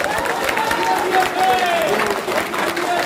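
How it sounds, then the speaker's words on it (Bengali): An audience claps loudly at a Moringo Organics workshop in Mirik, a dense continuous burst of applause with voices mixed in throughout. "জোরে হাততালি"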